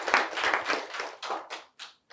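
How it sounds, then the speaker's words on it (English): Applause from a seated audience at an agricultural gathering, a burst of clapping that thins into a few scattered claps and fades out over about two seconds. "can we just give a round of applause?"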